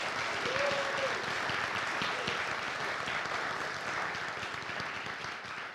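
Steady round of applause from an audience at the Whidbey Island Center for the Arts, dense clapping sustained evenly for several seconds and tapering slightly at the end.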